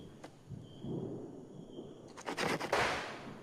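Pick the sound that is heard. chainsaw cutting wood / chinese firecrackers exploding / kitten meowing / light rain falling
chinese firecrackers exploding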